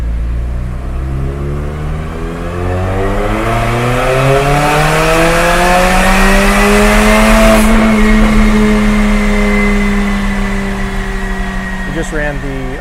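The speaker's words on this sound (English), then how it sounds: "We're going to go ahead and dyno the Armytrix turbo back exhaust, and right now we're going to run this in the open mode." A Mercedes-Benz CLA45 AMG on a dyno with an Armytrix catless turbo-back exhaust in open mode pulls through a long steady rev climb, then eases off. The engine note is loud and close with an airy roar, ending in a few pops.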